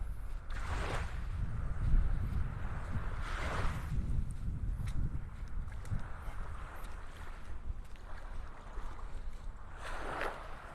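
Steady wind gusts across an open beach at Delnor-Wiggins in North Naples, Florida, a continuous low rushing roar with gusty surges and buffeting against the microphone, no talking.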